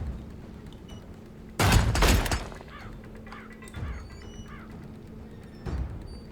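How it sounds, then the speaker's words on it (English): Gunfire in the tactical video game Tastee: Lethal Tactics: a loud, dense burst of shots, followed by softer scattered pops and thuds, with no talk over it. "Shots fired."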